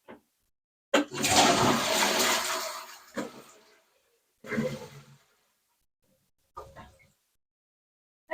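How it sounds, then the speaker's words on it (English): A freshly repaired toilet flushes with a loud rushing gush of water lasting about two seconds, followed by short bursts of refilling and gurgling, recorded up close in a renovated house in Portugal. "Yay, we have a flushing toilet again."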